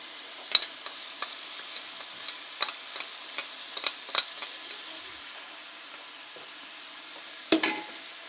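Tomatoes with salt fry in a pan with a steady, fairly quiet sizzle, while a spoon stirs and scrapes against the pan in light, regular taps, one louder scrape near the end.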